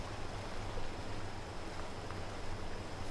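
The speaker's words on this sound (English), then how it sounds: "Excuse me, I'm cruising through the river." Truck in the MudRunner game ploughing through a river, a steady broadband rush of churning water with a low engine drone underneath, continuous and fairly close for the whole stretch.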